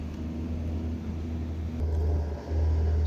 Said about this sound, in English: Stump grinder, check that thing out.